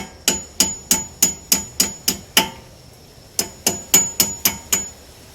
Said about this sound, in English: I just have to hammer them in. I'm going to lightly tap them.